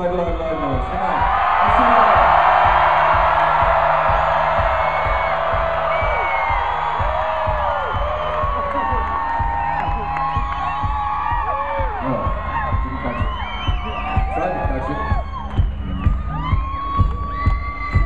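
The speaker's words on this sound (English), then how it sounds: "can you just shout out, scream out, do whatever you want, but just make a noise that's a very loud noise" Concert crowd at a show shouting, screaming and whooping loudly, swelling to a peak early then continuing as scattered cheers and yells.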